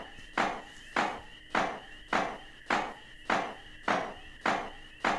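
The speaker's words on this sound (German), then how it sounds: "Mit wie viel Liebe sie da drauf hämmern." Characters hammer on a boat under repair in the Stardew Valley video game: nine evenly spaced, bright metallic strikes about half a second apart, each ringing briefly, with no talk.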